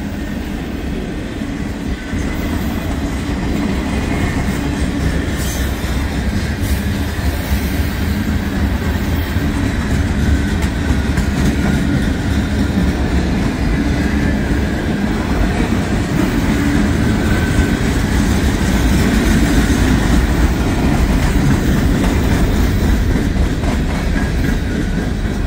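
Freight train cars, some loaded with old railroad ties, roll past in a loud, continuous rumble with rhythmic clatter of wheels over rail joints, steady and close for the whole stretch.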